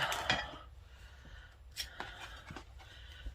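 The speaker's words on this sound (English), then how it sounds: "Now, scissors." Scissors snipping through paper to trim a music journal cover, a few quiet crisp cuts spread out over a soft background.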